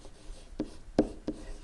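Three short strokes of a pen or marker on paper as an equation is written by hand, each a brief scratchy burst, close and quiet with pauses between and no voice.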